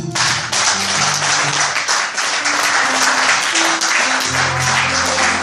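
A church congregation applauding and acclaiming during a Sunday prayer service, with loud continuous clapping and cheering that fills the room, steady throughout.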